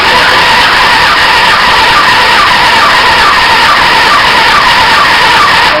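Motorcycle engine turning over on the starter with the throttle held wide open for a compression test, a loud, steady, whirring drone with a faint pulsing beat throughout.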